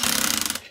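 A battery drill on its lowest torque setting drives a screw into a lowrider bike wheel, giving a short, close, rapid rattling buzz that stops abruptly after under a second.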